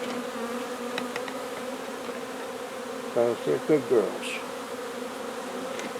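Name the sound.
honeybees buzzing at the hive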